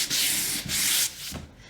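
Two long strokes of a sanding block rasp across painted wood, loud and close, followed by a shorter, softer scrape.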